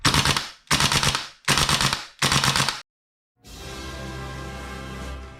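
Tokyo Marui AKM gas blowback airsoft rifle fired on full auto as a magazine dump: four loud, sharp bursts of rapid clattering shots with brief gaps, followed by silence and then a steady background hum.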